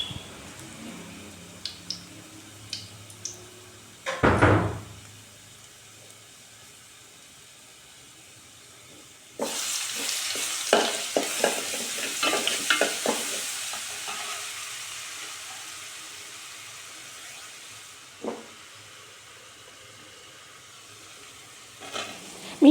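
Sliced onions sautéing in oil with ginger garlic paste for a chicken curry: a soft, steady sizzle, a sharp clatter near the start, then louder bursts of stirring and scraping in the pan before it settles back to a gentle frying hiss.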